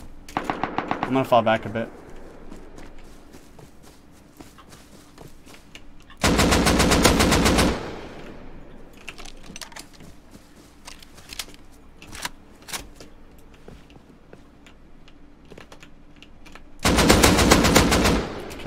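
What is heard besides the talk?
AK rifle gunfire in the video game Rust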